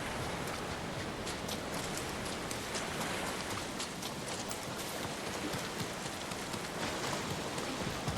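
Steady rainfall in the video game Ghost of Tsushima, a dense, even hiss of drops on surfaces with faint scattered taps, continuous and unbroken, with no voices.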